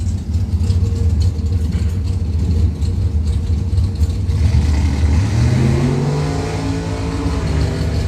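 Dodge Viper drag racing at the strip: loud, close engines rev hard and climb steadily in pitch as the cars accelerate, with a dense roaring drone throughout and crowd and track ambience behind.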